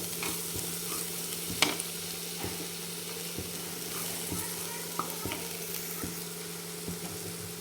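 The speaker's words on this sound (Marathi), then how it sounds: "एक हे तिखट पण आपण एक अर्धा मिनिटभर छान परतून घेऊ तेलावर" Chilli powder and spices sautéing in oil for rajma, a soft continuous sizzle under a steady low hum, with a spoon stirring and tapping the pan in regular intervals, close and quiet.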